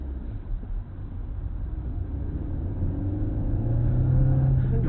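A manual car's engine rises steadily in pitch and loudness as gas is pressed during a driving lesson, a continuous close-up drone with no talking.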